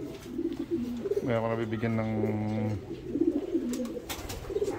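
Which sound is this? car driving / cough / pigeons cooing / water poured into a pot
pigeons cooing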